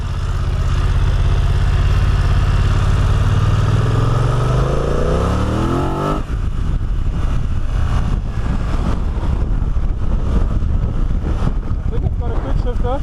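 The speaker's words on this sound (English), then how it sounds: "In front of me is a beautiful F900XR that we're going to test driving." A BMW F900XR motorcycle rides off and accelerates, its engine pitch climbing steadily through the gears before a shift, then settles into a steady ride buried under loud, constant wind noise.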